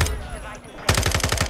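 Sniper rifle fire in a search-and-destroy match of an online shooter, heard as a sudden burst of loud sharp gunfire and clattering impacts in the second half, after a quieter stretch with faint game noise.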